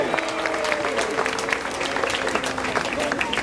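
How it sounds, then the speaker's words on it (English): An audience applauds steadily, a dense crowd clapping for a few seconds. "So give Steve a round of applause"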